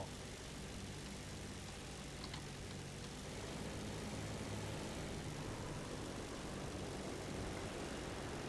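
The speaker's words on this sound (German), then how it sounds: "jetzt kommen wir mit dem Bomber in die Schlacht" A steady drone of bomber aircraft engines in the War Thunder game, a dense, constant roar that neither rises nor falls, heard alone and fairly quiet.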